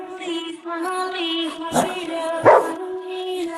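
In an animated drama, a voice imitates a dog barking in a series of tonal, yelping woofs, close and fairly loud, with two sharper accented barks midway.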